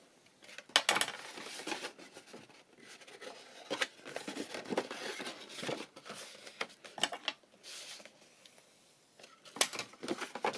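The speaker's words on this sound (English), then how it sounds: "fold on the diagonals that we scored" Paper is folded by hand along scored diagonals and burnished for a faceted-sided craft box, giving close, irregular crinkles, creases and scraping rubs in uneven bursts.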